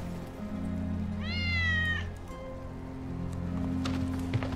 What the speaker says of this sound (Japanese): ウェッジの猫だ。